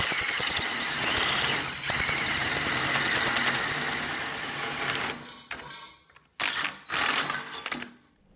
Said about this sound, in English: cut with a hole saw 1¾ inches on both sides of our mounting tabs